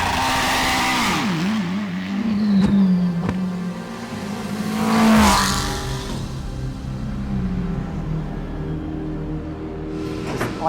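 A McLaren 720S GT3 race car on track, its engine loud and close as it revs up and down, with pitch rising and falling through shifts and braking, and no voices.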